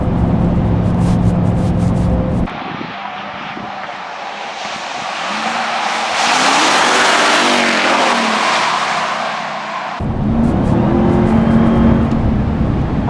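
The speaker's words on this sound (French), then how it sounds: "on entend bien le compresseur" Engine noise from a Dodge Ram TRX accelerating on a test track, with a rising supercharger whine over loud revving. The engine surges, drops into a quieter stretch, then swells again.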